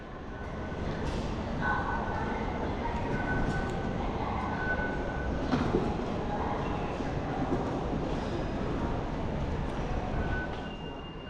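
Inside a Shanghai metro subway car during a ride, with a steady loud rumble of the train running throughout, faint squeals of wheels and brief tonal whines rising now and then, and no talking.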